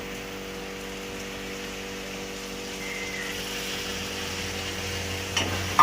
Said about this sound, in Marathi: अर्धाच ग्लास पाणी टाकणार आहे.